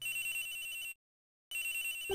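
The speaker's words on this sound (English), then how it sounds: "The phone!" An in-game telephone rings in Ace Attorney Investigations, a bright electronic trill that sounds, cuts off for a moment of silence, then rings again.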